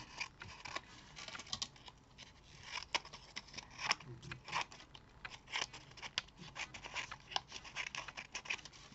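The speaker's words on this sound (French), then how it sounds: "Donc là, on va découper déjà tout le surplus" Scissors trimming surplus paper from a handmade patchwork card, a quiet series of crisp snips and paper rustles in an irregular rhythm, close by.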